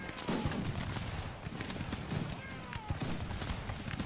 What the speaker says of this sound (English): Let's just go ahead and have them open fire as well.